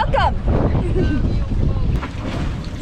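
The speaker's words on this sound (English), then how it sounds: "Lots of wind." Strong wind at a kiteboarding beach, buffeting the microphone in a loud, continuous roar, with people talking briefly underneath.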